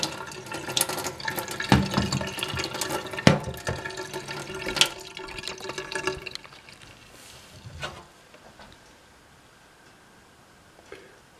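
Water pours into a plastic Good Grips angled measuring cup in a loud splashing stream with a few sharp clinks, then stops, leaving faint drips and quiet handling noise.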